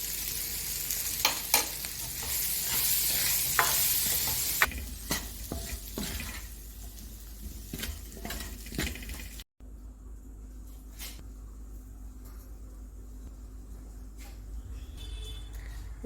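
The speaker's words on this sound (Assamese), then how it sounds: "আলু ফ্ৰাই ৰেডি হৈ গ'ল।" Potatoes seasoned with turmeric, chilli, salt and pepper fry in a pan with a continuous sizzle, punctuated by scraping stirs and utensil clinks close up, the sizzle quieter in the second half.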